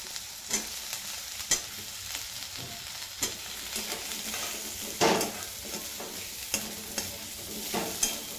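Potato pieces fry with young fresh eggplant in a pan, a constant oily sizzle broken by sharp scrapes and clacks of a spoon stirring at irregular intervals, close up, no talking.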